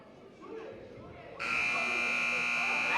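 A loud, harsh electronic buzzer at a girls' high school basketball game sounds abruptly and holds steady after a moment of crowd and court noise.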